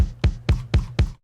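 Realistic acoustic-style drums in a music production session: a steady kick-and-snare pattern with about six evenly spaced punchy hits over just over a second, clean and upfront with no voices.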